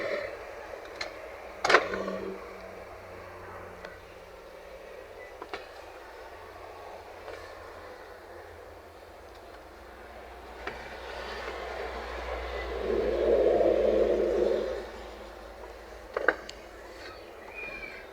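Toyota Camry with a 3.5 L V6 and a transmission problem, on a test drive, giving a low steady engine and road rumble with a few clicks and a swell of louder noise near the end.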